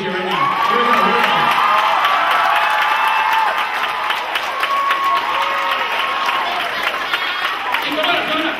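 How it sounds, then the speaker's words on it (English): An audience breaks into loud, continuous applause mixed with cheering, whoops and excited shouts as a grandmother is called up on stage, the crowd noise staying dense and full throughout. "give me a grand applause for Grandma"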